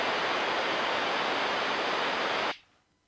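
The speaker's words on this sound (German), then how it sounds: "das ist ein rosa Rauschen hier" A pink noise test signal plays steadily through a loudspeaker being measured, a loud, even broadband hiss that cuts off abruptly after about two and a half seconds, leaving near silence.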